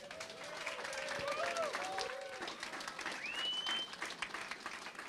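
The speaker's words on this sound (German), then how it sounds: "Und wir bedanken uns nochmal hoffentlich mit einem großen Applaus bei Thomas Delaney." Applause for footballer Thomas Delaney, a fairly faint, continuous wash of clapping from a crowd, mixed with some voices and whistle-like tones.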